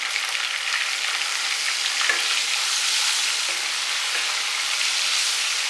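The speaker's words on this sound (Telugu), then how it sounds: "ఇప్పుడు బాగా ఫ్రై అవ్వాలి" Biryani gravy masala frying in a pan, a steady close hiss and sizzle with faint stirring scrapes and no talk.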